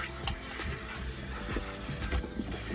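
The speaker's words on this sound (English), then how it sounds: "now we're gonna rinse these off." Food being rinsed under a running kitchen faucet in an RV, a steady broadband splash of water with small bumps as the pieces are turned in the stream, fairly close and continuous throughout.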